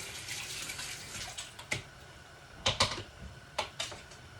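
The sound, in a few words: rinsing a spaghetti spoon under running tap water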